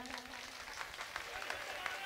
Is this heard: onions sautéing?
no